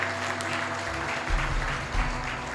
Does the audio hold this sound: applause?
yes